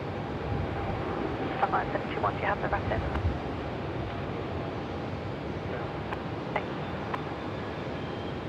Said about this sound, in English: Jetstar 971 service coming in from Perth with all the streamers coming out the back.